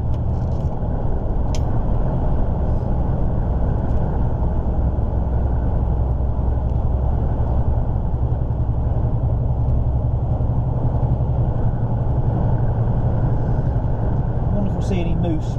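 A vehicle cruising down a road in daytime, heard as a steady, loud low engine drone and road rumble that stays constant throughout, with no breaks or gear changes evident.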